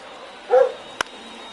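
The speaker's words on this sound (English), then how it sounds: "my dog was barking loudly" A pet dog gives one short, sharp bark nearby, followed by a brief knock, over a quiet indoor background.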